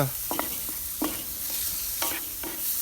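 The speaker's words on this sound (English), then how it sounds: "So we saute these vegetables up, and that's called the sofrito" Vegetables for a crawfish paella sofrito sauté in a pan on a Weber kettle grill, with an even sizzle broken by regular scraping stir strokes about once a second, close and clear.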